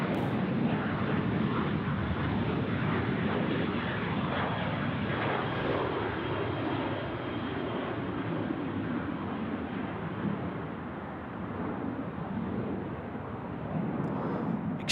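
A jet aircraft at Sydney Airport lines up on runway 34 left, its engines giving a steady, loud roaring rumble that holds throughout without pause.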